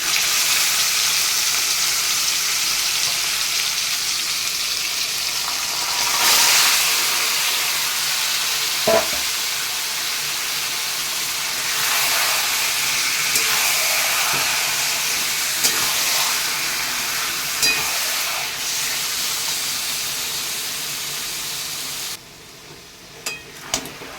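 Mutton pieces go into a pan of already-fried vegetables, potato and papaya, and sizzle steadily with a loud continuous hiss and crackle, with a few clinks of stirring and no talk.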